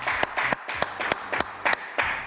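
A studio audience claps for the two set decorators, short bursts of applause that rise and fall in several quick waves, fairly close and loud, with no voices over it.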